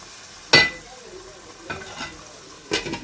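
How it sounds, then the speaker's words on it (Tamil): Beaten egg gets stirred into gravy frying in a pan for chapati egg kothu, heard as a soft background sizzle broken by three bursts of spatula scraping and clattering, with no voices. "முட்டையை ஊற்றி சும்மா ஒரு கிண்டி ஒரு 5 நிமிஷம் மூடி வச்சுருவோம்."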